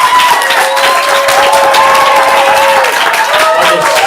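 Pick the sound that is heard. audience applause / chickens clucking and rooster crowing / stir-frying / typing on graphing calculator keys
audience applause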